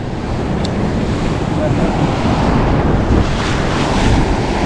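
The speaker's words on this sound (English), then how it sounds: "The waves are big over there." Big ocean surf roars and breaks continuously along the shore during shore jigging for kingfish and bonito, loud and close, with heavy wind buffeting the microphone and no clear talking.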